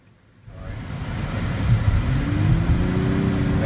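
A 2016 Nissan Maxima's engine drones while driving, starting quiet then swelling into a steady, moderately loud hum with rising tonal whine as the car accelerates.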